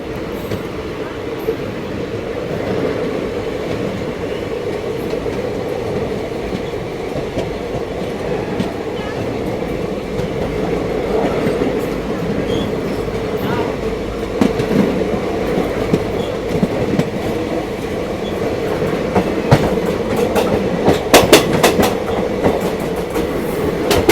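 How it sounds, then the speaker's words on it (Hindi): Mahanagari Express train running past on the Varanasi to Mumbai CSMT railway, a loud continuous rumble with rhythmic wheel clatter that builds toward the end, with people talking in the background. "ये ट्रेन जो है ना, ये आ रही है वाराणसी से जाके CSMT के लिए।"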